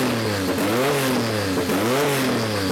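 A Porsche 959 engine revs steadily and loudly, its pitch swooping up and down in two rising-and-falling sweeps over a continuous mechanical drone.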